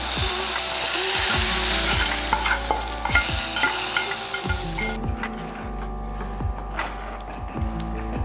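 Sautéed onion and garlic tipped into mashed dal for a simple sambar and stirred, a loud frying hiss for several seconds, then repeated rhythmic spoon scrapes and clinks against the pot as it quietens.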